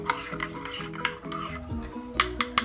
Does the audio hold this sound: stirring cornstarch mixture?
yes